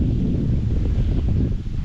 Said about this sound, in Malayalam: പതിവിലും കൂടുതൽ കാറ്റ് മരങ്ങളൊക്കെ ആടി